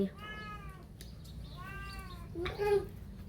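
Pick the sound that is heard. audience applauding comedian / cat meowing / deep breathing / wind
cat meowing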